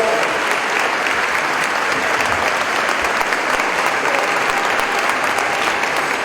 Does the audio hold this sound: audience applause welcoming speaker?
yes